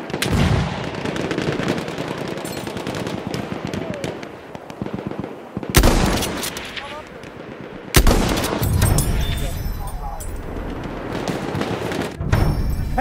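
Battlefield 1 combat on Cape Helles with loud, continuous gunfire and machine gun bursts, broken by sharp louder blasts, with faint voices mixed in.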